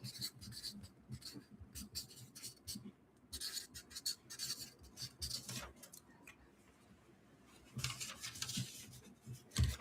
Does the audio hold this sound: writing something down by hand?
yes